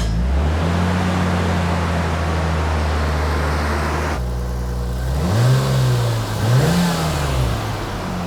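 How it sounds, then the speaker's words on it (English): A 1998 Nissan Skyline R34 engine runs loudly up close, holding a steady drone, then the note shifts and it revs up twice in quick swells before settling back to idle. "we need to warm this thing up, so we'll see if it starts and holds an idle"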